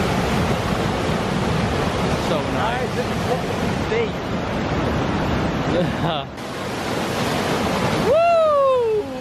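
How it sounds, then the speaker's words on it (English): A massive forest waterfall roars as a constant, loud, broadband rush, close by, while people talk and exclaim excitedly over it. "It's a massive waterfall."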